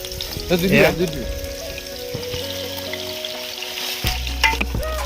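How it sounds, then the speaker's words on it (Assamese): Pork frying in oil during an outdoor night meal in the woods, with a close, continuous sizzle and crackle, bursts of stirring, and faint voices in the background. "গাহৰি মাংস ফ্ৰাইটো হৈ গৈছে"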